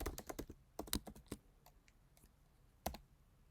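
Quiet keystrokes on a computer keyboard while code is edited, a quick flurry of close clicks at the start, then sparse single taps and one louder key press near the end.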